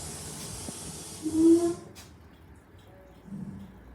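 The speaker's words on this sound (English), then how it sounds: "Just got to wait for the train to go." A steam train pulling away from a signal box: a sharp burst of hissing steam with a brief tonal whine, then quieter puffs and rumble fading off.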